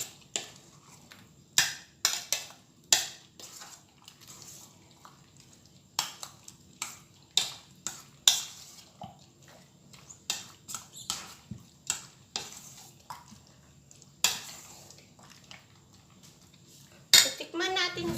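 Macaroni salad being stirred in a bowl, repeated close clinks and scrapes of a utensil against the dish in an uneven rhythm over a soft background hum, with no talking.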